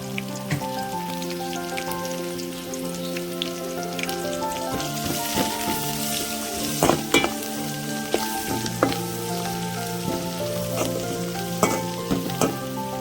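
Cumin, coriander and turmeric frying in a pan for a village-style broad bean and potato curry crackle with a dense, rain-like sizzle. Stirring clinks and scrapes come through over a steady tonal hum, close by, without speech.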